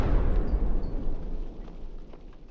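A mortar round exploding in a video game, a heavy close boom with rumbling debris that trails off into a fading low roar over a couple of seconds.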